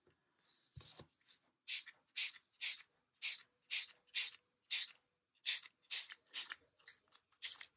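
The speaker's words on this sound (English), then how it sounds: "More shaking, more spraying." A spray can hisses in a steady series of short bursts, about a dozen, close by, with a brief rattle of shaking near the start.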